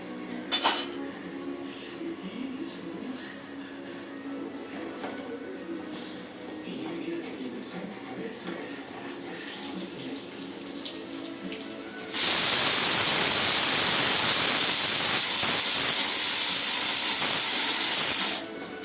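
Potatoes for a potato roast are dropped into a hot pan with sautéed ingredients, and a loud sustained sizzle and hiss builds partway through with faint clinks of stirring, following quieter kitchen noise.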